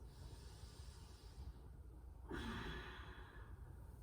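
A soft, slow exhale during a gentle yoga practice, heard as a faint breathy whoosh about halfway through over quiet room hiss.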